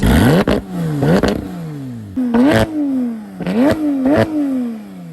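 A 2014 Porsche 911 GT3 (991.1, PDK gearbox, muffler delete) starts and revs loudly and repeatedly, rising in pitch with each push and dropping back, with clattery mechanical bursts at each shift, close and powerful.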